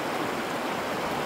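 River water in Pugo rushes in a steady, full broadband stream, close and constant with no talk over it.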